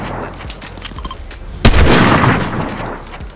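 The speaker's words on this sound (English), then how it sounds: "Bro, the gun was shooting." Fortnite gunfire: rapid sharp shots crackling in quick succession, then a heavy boom with a rolling blast tail, loud and close.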